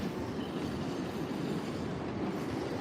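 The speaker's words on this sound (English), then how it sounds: "It's a yellow Shinkansen train that checks the integrity of the train lines after earthquakes and disasters" A yellow Shinkansen inspection train passing, a steady rushing rumble with faint wheel rattle throughout, loud and close with no talking.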